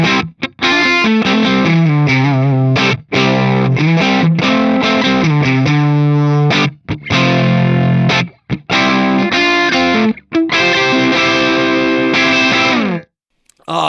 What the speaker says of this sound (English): I'll dial up a Fender style amp.